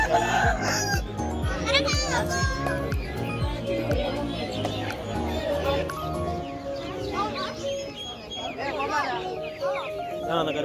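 Chickens, including a black hen, at the busy Friday pet market in Pallavaram, with rooster crowing and clucking amid crowd chatter, children's voices and continuous market bustle.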